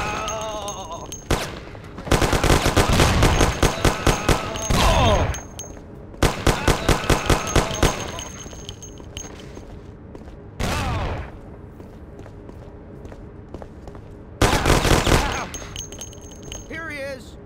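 Shootout in the 1930s gangster game Mafia: The City of Lost Heaven: several long, loud bursts of rapid automatic gunfire separated by short pauses, with someone talking in between.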